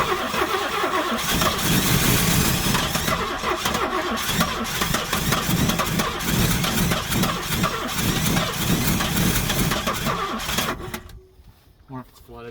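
A 1968 Buick Wildcat 430 V8, started after sitting for ten years, cranks and catches into a loud, uneven idle that runs steadily, then cuts off abruptly near the end; people talk over it.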